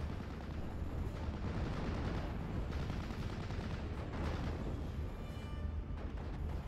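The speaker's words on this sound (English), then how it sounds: "Nebelwerfer needs to get some good barrages in." Nebelwerfer rocket artillery barrage in the WWII strategy game Steel Division: a dense, continuous rumble of overlapping blasts and gunfire, steady and loud throughout with no talking.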